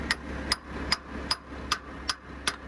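Seven sharp metallic hammer strikes drive a pin into farm tillage equipment at a steady, even pace, each ringing briefly against a low background hum.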